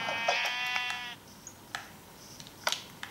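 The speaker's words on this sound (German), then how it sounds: "Schaf töten." A sheep in the video game Minecraft bleats in a loud, wavering call lasting about a second, followed by a few fainter clicks and short game sounds alone, with no talk.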